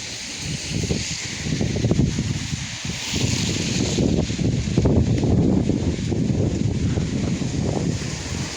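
Strong gusts buffet the microphone in a garden, a loud, continuous low roar with rustling foliage, surging and easing over several seconds with no voices.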